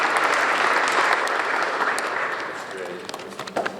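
An audience at the opening of Great Point Studios Buffalo breaks into applause, full and steady at first, then thinning to scattered claps as it fades.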